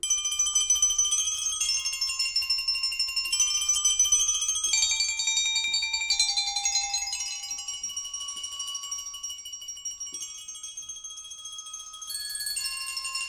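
A continuous shimmering roll of high metallic Chinese chimes from a sample library, notes blurring together into a sustained tinkling wash that shifts pitch over time.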